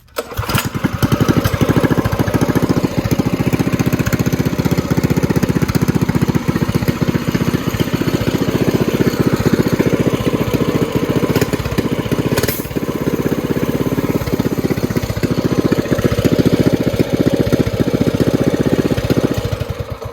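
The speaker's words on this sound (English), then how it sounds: "But here's this Moto 80 started." A Mega Moto 80 mini bike engine runs steadily and loudly, close by, with a continuous rough mid-pitched drone and no speech.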